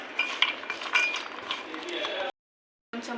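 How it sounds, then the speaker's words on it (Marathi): A spoon stirs a mix of spices in a kitchen, giving quick light clinks and scraping in an uneven rhythm, close and steady, before cutting off briefly near the end. "आता मी सगळे मसाले चमच्यामध्ये हलवून घेते चमच्याने"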